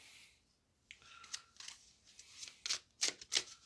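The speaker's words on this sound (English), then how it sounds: "shuffle the cards and then we'll start the reading." Tarot cards being shuffled by hand at a reading, soft scattered riffling and slapping bursts that grow busier toward the end, quiet and close with no talking.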